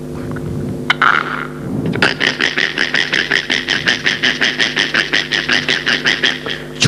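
A performer on a comic stage programme mimics a night chorus of many frogs in rain-filled pits, opening with a few low sounds before breaking into a fast, regular train of loud, rasping croaks.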